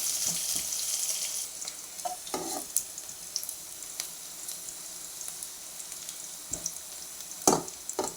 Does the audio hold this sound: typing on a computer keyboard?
no